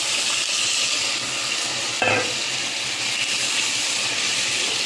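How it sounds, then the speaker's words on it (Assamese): Hot water poured into a frying pan of potatoes and ou tenga (elephant apple), giving a steady loud sizzle and hiss throughout with a brief stronger burst midway as the water hits the hot pan. "এতিয়া মই এইখিনি পানী ঢালি দিছোঁ ইয়াত"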